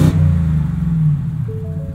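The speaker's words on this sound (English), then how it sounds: "Here's what the exhaust sounds like in normal mode." A 2023 Ford F-150 Raptor R exhaust in normal mode gives a loud, steady low rumble from close by, with a brief tonal rise near the end and no talking.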